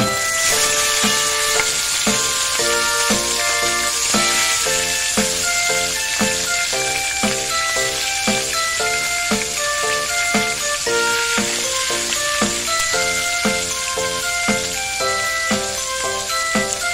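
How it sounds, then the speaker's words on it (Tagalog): Galunggong fish frying in hot oil, with a loud, steady sizzle and crackle that runs the whole time, over a rhythmic backing of music and no talking. "Mainit na ang ating mantika. Lagyan na natin ang ating isda, ang ating galunggong."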